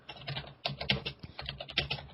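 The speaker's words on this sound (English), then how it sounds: "Oh man, that typing." Fingers type quickly on a computer keyboard, producing a dense, irregular run of crisp key clicks at close range with no voices.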